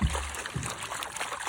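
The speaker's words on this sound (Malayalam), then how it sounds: "പെട്ടെന്ന് വെള്ളം അതിനകത്ത് കൊടുക്കുക." Water poured quickly into a container holding turmeric, a short wet trickling and sloshing rush that is fairly loud and close with no talk over it.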